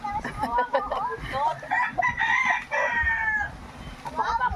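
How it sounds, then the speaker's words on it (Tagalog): A fighting rooster crows loudly nearby, a drawn-out call among clucking chickens, while someone talks over the birds. "napakaganda ng aking manok"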